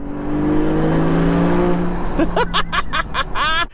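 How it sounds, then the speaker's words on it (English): A Volvo V60 Polestar's exhaust with a new downpipe drones loudly, then the engine revs sharply several times in quick bursts with crackling pops, close up. "how amazing this car sounds, because it sounds ridiculous now with this downpipe"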